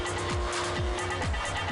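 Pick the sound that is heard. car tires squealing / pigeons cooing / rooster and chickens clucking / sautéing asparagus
car tires squealing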